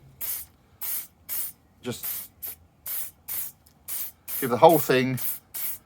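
Hairspray sprayed straight from an aerosol can onto a model in repeated short bursts, each a sharp hiss with brief gaps, while someone talks quietly between sprays.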